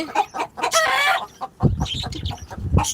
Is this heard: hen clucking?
yes